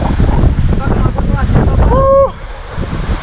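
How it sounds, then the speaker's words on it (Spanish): Loud, steady roar of water spray and strong wind at the base of La Candelaria waterfall in Colombia, a close and continuous wash of noise with voices briefly heard over it. "La presión del agua y el viento es muy fuerte."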